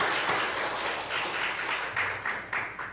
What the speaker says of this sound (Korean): 우리 하나님께 영광의 박수 한번 올리겠습니다